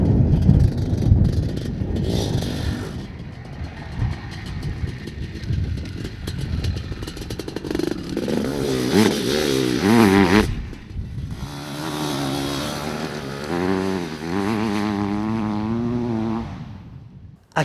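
A Maico 700 motorcycle engine revs hard and loud, with rising and falling pitch sweeps of throttle blips and a rough, raspy single-cylinder tone that continues close by with no talking.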